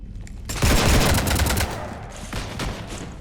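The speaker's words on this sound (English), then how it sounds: "You want to stop shooting up my ship?" Rapid sustained gunfire in the video game Mass Effect 3: a dense automatic burst, loud and close, followed by scattered shorter volleys.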